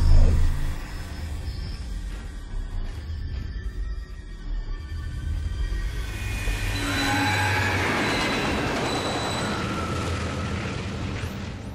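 A train pulls through a station in the Dead Space 2 video game, with a loud rumbling, clattering roll and squealing metal wheels that swell louder toward the end, heard alone.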